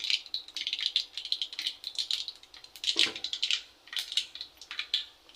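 Urad dal crackling in a couple of tablespoons of hot oil, a dense run of quick, sharp popping ticks throughout, fairly close, with no voices.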